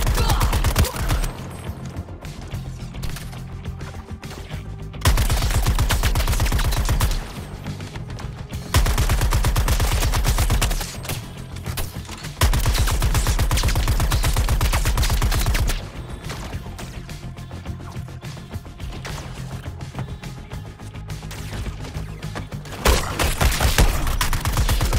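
Heavy gunfire from a shooter game, Suicide Squad: Kill the Justice League, comes in loud sustained bursts of rapid automatic shots with brief pauses between volleys, under a busy game soundscape.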